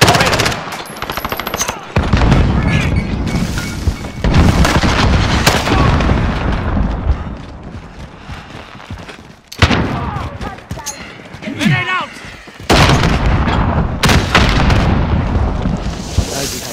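Call of Duty: Modern Warfare gunfire, dense bursts of automatic weapons fire with heavy booms and explosions, loud and close, broken by brief lulls while soldiers talk over the fighting.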